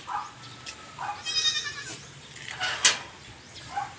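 Young goats bleat several times in short, high calls scattered across the moment, fairly close, with light background noise and no talking, while being bottle-fed milk.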